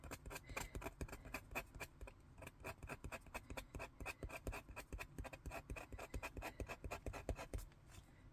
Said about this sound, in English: I'm going to come back in with my scratchy tool and just do a few bits and bobs here